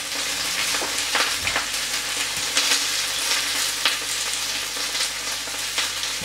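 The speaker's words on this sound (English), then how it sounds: "the potatoes into the pan here, so that they can boil away for a little while." Potatoes cooking in a pan for leek and potato soup give a steady, close bubbling sizzle, broken by a few soft clinks and knocks against the pan.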